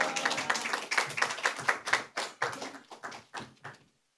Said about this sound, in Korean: 우리 목사님 나오실 때 큰 박수로 우리 할렐루야 하시겠습니다.